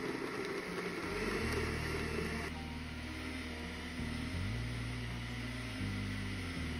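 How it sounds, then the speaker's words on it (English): Kitchen blender whirring through soaked soybeans and water, a steady motor hum with shifting pitch as the load changes, close and continuous. "Switch to milkshake level, blend for 5 minutes"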